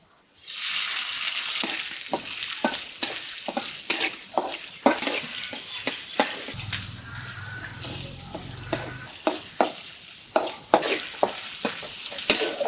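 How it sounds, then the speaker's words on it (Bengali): Shrimp fry in hot oil in a wok, with a continuous close sizzle broken by frequent scraping, stirring strokes and light clinks of a spatula; nobody speaks. "এখন চিংড়ি মাছগুলা তেলে দিয়ে দেব"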